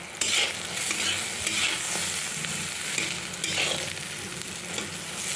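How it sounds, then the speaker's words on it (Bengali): Eggplant pieces fry in oil in a wok, a steady close sizzle broken by rhythmic scraping stirs of a utensil against the pan, fairly loud throughout. "ভেজে নেব ভালো করে ভেজে নেবো"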